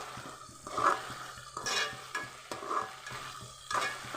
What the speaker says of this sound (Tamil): இப்போ நம்ம அரைச்சி வச்சு சேர்த்துக்கலாம்.